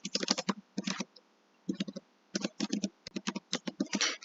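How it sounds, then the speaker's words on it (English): Typing on a computer keyboard, with bursts of quick key clicks separated by short pauses; the sound is close and clear, with no talking. "So I'll type in the rest of these words"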